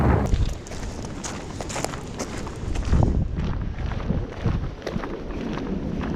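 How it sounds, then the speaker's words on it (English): Strong wind gusts from a sudden storm at a backwoods fishing spot rumble across the microphone, loud and continuous with surging buffets and scattered clicks and knocks, no speech. "This is like 40 mile an hour gust. This storm just came out of nowhere."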